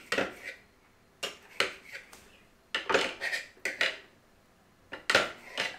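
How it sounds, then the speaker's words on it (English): A knife saws through a loaf of bread for honey toast in several separate bursts of rough scraping, with short pauses between strokes and faint clinks against a plate or board. "now to cut this bread"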